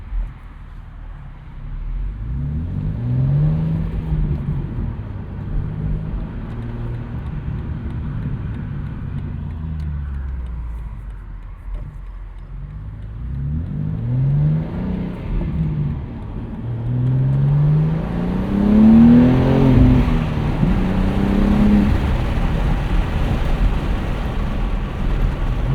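A 2025 BMW M2 with a 473 hp engine and six-speed manual gearbox revs up, drops away on a shift with automatic rev matching, then pulls hard again. The engine sound is loud and close, and no one speaks.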